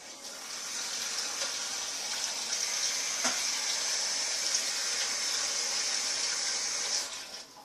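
Tap water runs steadily into a sink as a metal teaspoon is washed with soap after use in slime-making, a broad continuous gush from start to finish with a brief clink midway, no talking.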